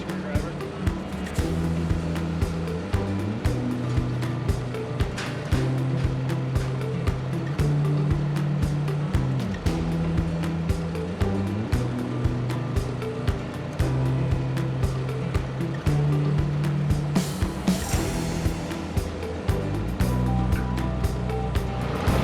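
A water-wheel transplanter being pulled through a farm field while planting peppers, its water wheel filling up with a steady sloshing rush over a droning tractor engine, loud and continuous, with people talking at points.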